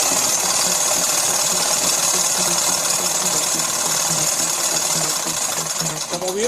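A motorcycle electronic ignition rotor spun by a test motor on a bench gives off a steady, loud mechanical whine and rattle with a high tonal hum, continuous and close, easing off near the end.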